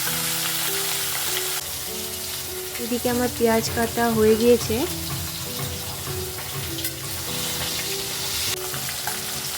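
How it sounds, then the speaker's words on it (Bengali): Pieces of fish fry one at a time in white oil in a pan with a steady, crackling sizzle that swells briefly in the middle, while a voice talks over the cooking. "মাছগুলোকে এবার ভেজে নেব এক এক করে।"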